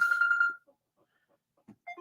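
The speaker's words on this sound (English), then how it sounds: "That was my phone alarm." A phone alarm rings in a short melodic electronic tone that lasts about half a second and then cuts off, followed by faint quiet sounds.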